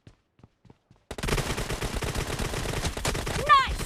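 Dense, loud automatic gunfire in PUBG Mobile team deathmatch, a sustained rattle of rapid shots after a second of near silence with faint clicks, ending in a brief whistling effect.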